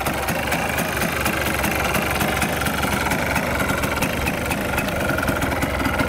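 A Yamaha Blaster ATV engine idles low and steady at close range, its rapid, even, knocking putter continuous and loud throughout, with no talk.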